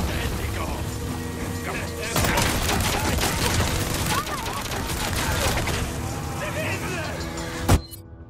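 Gunfire and grenade blasts in the Resident Evil 4 Remake video game, a loud, continuous barrage with rattling bursts and one sharp bang near the end, under a voice talking.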